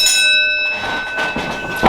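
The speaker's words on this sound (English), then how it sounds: "Ring bell!" A wrestling ring bell rung to start the match, loud and close, clanging with bright sustained ringing tones over crowd noise in an arena.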